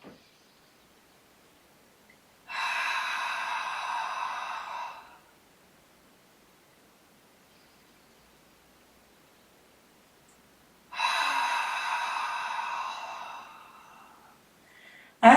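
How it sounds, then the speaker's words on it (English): Slow, deep breaths during a pelvic exercise routine, two long, soft airy exhalations several seconds apart, close and quiet against near silence. "Soft inhale."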